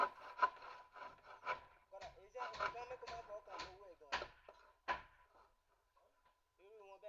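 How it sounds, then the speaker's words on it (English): A hand saw rasps through roofing sheets in a series of rough back-and-forth strokes on a house roof build, moderately close, with someone talking over the cutting. "he skillfully uses his saw, cutting roofing sheets to smaller pieces for covering of the roof"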